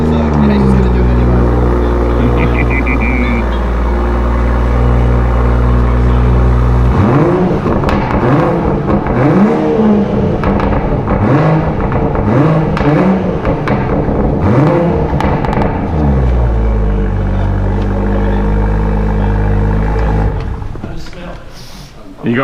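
A car engine with a new catback exhaust idles cold with a deep, throaty exhaust note, then revs repeatedly in rising bursts before settling back to idle; a voice speaks briefly.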